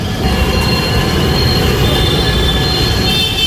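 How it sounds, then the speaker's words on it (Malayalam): An elevated metro train passes overhead at night in Agra, giving a loud, steady roar of wheels on rail with high squealing tones running through it, continuous from start to finish with no talking. "ഇവിടെ മുകളിലൂടെ പോകുന്നത് മെട്രോ ട്രെയിനിൻ്റെ ഇതാണ്. മെട്രോ ആണ് മുകളിലേക്ക് പോകുന്നത്"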